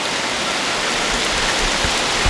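A heavy mountain rain downpour gives a dense, even roar of falling water, loud and close, steady for the whole stretch with no voices.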